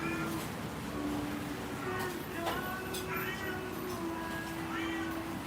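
Cat meowing outdoors in a Bangkok riverside park, several thin, faint meows scattered through a dense, steady wash of city and crowd noise.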